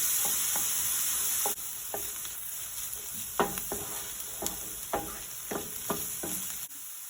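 Onions frying in a pan toward light golden brown, a constant soft sizzle broken by a string of sharp spatula scrapes and taps at an irregular pace, up close with no talking.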